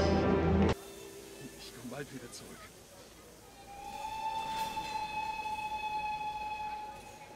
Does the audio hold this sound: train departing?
yes